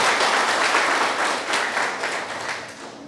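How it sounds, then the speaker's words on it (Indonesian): Audience applause at a Health Ministry talk show in Padang Lawas: steady, dense clapping from a crowd filling the room, loud throughout and easing off slightly toward the end. "Kita beri aplaus ya Maria"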